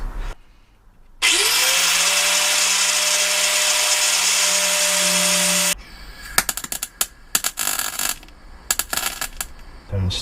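A power tool cuts a heater part for a VW Corrado TDI, a loud steady high-pitched whine lasting several seconds, followed by clattering metal handling and knocks.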